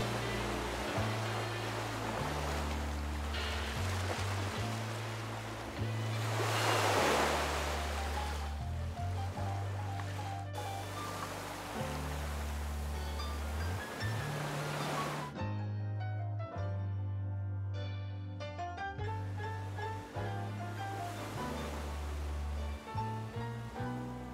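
Ocean waves break and wash at a river mouth beside a village, a steady surf roar heard under prominent background music throughout.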